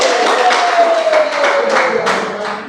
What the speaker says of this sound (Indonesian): tepuk tangan buat Kang Ian